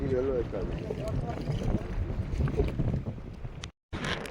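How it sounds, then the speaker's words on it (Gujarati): Rain and gusty wind at the end of a fishing jetty on the coast, a steady broadband rush buffeting the microphone throughout, with a brief dropout near the end. "વરસાદ ને પવન પણ છે ને વરસાદ છે ભેગો"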